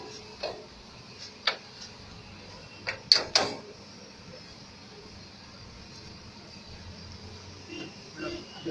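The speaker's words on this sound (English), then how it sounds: "Okay, close the bonnet now." Car bonnet being closed, heard as a few sharp metallic thuds and clicks, the loudest pair close together, over quiet background noise with faint voices.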